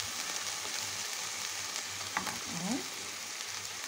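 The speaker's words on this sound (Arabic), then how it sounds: "هبتدي انزل بقى بالايه، بصدر الفرخة اللي عندي ده" Chicken breast frying with onion in a pan: a continuous, low, crackling sizzle with a brief thump and a short scraping stir near the end, and a single quick word spoken.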